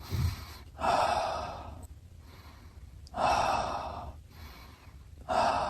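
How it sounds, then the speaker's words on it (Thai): Slow, deep breaths during a relaxation exercise for sleep. Three long, audible exhales, each followed by a quiet pause, sound close and unhurried with no talk over them. "พอปล่อยไปเนี่ยหายใจลึกๆสามสิบวิครับ"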